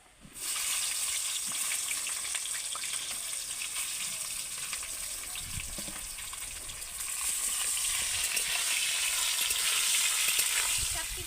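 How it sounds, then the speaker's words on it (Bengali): Eggplant pieces fry in mustard oil with a loud, continuous sizzle that holds steady throughout and swells slightly in the second half, with no talking. "এবার আমি বেগুনগুলোকে ভেজে নেব"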